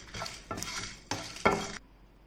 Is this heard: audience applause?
no